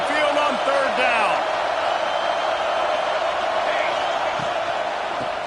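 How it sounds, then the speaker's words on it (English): A stadium crowd in the NCAA 26 college football video game roars on third down at Saban Field, a loud sustained wash of cheering with faint whoops early on. "The Tide crowd rolling noise down onto Saban Field on third down."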